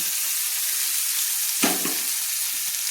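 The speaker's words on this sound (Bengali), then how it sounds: "এবার আমি এই পেস্ট করা মশলাটা আমি দেখুন কষিয়ে নিচ্ছি" Mustard and poppy seed spice paste frying in hot oil for a tilapia curry, a steady bright sizzle with one brief louder burst of spattering midway as the paste is worked in the pan.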